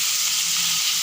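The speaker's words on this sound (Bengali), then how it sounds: "আর এদিকে কাঁকরোল ভাজা বসিয়ে দিয়েছি" Spiny gourd (kakrol) frying in oil gives a loud, bright, steady hiss of sizzling, close and continuous over a short stretch with no talk.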